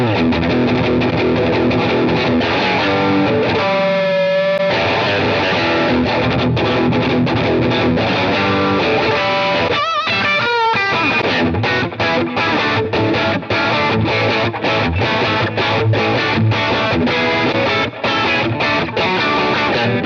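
Overdriven electric guitar with a 1952-style Telecaster pickup plays loud, dense chords and riffs, with a brief sustained note and a quick strummed break midway, no voices.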